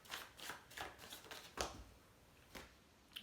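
Tarot cards are shuffled and handled up close, with soft rhythmic riffling flutters and a sharper slap, quiet and without talk.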